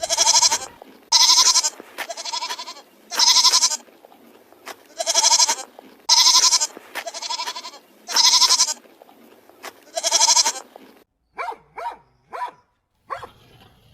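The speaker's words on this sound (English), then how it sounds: "Goat." A goat bleats about nine times in a regular rhythm, loud and close, each call a wavering nasal cry, followed by a few shorter, different animal calls.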